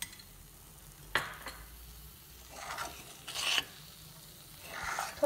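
Ghee goes into a saffron almond burfi mixture in a pan, giving a soft, fairly faint sizzle with a few bursts of louder scraping or hissing as it is worked in.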